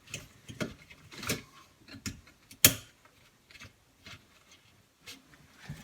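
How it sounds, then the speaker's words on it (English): Scattered soft mechanical clicks and handling noises on a UV water treatment unit, with one sharp, loud snap of the retaining ring locking into place midway, close up and quiet otherwise. "Now we replace the retaining ring, pinch it and push it down. You'll hear that click."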